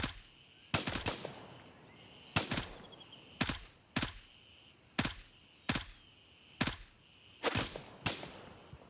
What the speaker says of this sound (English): I got a couple guys here shooting at me